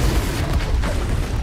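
A fiery Confringo spell blast in Hogwarts Legacy, heard as a loud, low rumbling boom that carries through the whole short moment without any talk over it.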